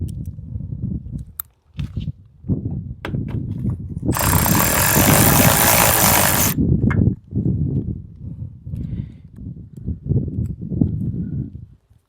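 Automatic wrench tightening nuts on a Tlyard roof rack on a Tesla Cybertruck: one loud, close, steady whirring burst of about two seconds set among clanking and handling noises.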